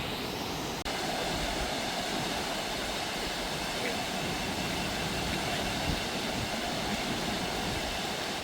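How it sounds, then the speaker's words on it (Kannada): Abbey Falls waterfall gives a constant, dense roar of rushing water, steady and unbroken from start to finish. "ಫಾಲ್ಸ್ ನೋಡಿ, ಫಾಲ್ಸ್ ಕೋಟೆ ಅಬ್ಬಿ ಫಾಲ್ಸ್ ಅಂತ"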